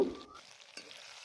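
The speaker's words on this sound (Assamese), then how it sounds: "এতিয়া পিঁয়াজখিনি লৰাই কৰি অকণমান কোমল হৈ যোৱালৈকে এনেকৈ ভাজি ল'ম" Sliced onions with potatoes frying in hot oil in a home kitchen pan, a quiet soft sizzle with a brief stirring scrape, no voices.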